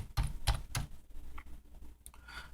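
Keys clack on a computer keyboard in three quick close strokes, followed by softer scattered taps and light room noise, with no talking.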